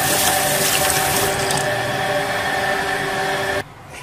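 Tap water gushes steadily into a sink while fish is washed for Vietnamese fish cakes, a loud close-up rush that cuts off abruptly near the end.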